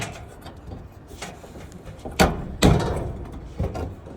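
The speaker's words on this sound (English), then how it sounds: "My right hand, I'm going to take the belt off of the pulley." A drive belt is worked off the motor and idler pulleys of a GE gas dryer, giving two sharp, close clunks a moment apart over quiet handling noise, then a smaller knock.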